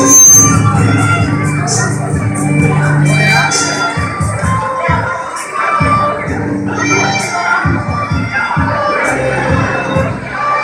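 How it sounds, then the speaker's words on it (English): Loud crowd screaming and cheering throughout at a live violin performance, a dense sustained roar with rising whoops and shouts over faint music. "Everybody's screaming at that second song."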